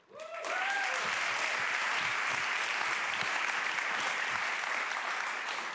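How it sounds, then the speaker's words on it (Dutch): Warm applause from a large audience at a Dutch opening programme, swelling quickly after a brief voice and holding as dense, loud, sustained clapping to the end. "ga ik een warm applaus vragen"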